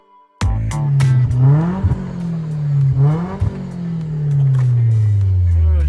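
A BMW 318is E36 four-cylinder starts up loud and close, then revs while driving, rising and falling in pitch through several gear changes.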